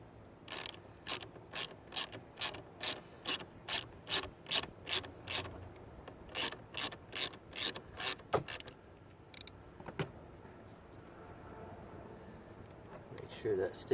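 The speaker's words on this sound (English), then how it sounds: "Let me go get a proper wrench there" A 13 mm ratchet wrench clicks in quick rhythmic bursts, about twenty strokes in a row, while trailer wiring is installed on a 2015 Volvo S60, then a few isolated clicks and handling noises follow at close range.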